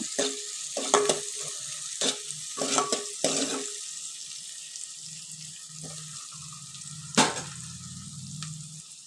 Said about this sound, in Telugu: ఇవి ఫ్రై అవుతున్నాయి కదా